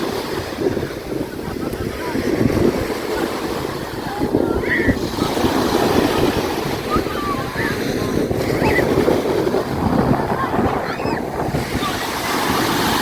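Steady roar of Black Sea surf washing onto the sandy beach at Golden Sands, Bulgaria, with wind buffeting the microphone throughout.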